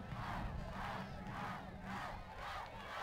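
A large crowd at a high school football game chants loudly for a touchdown with rhythmic, pulsing swells of many voices, sustained and distant-sounding, heard alone without commentary.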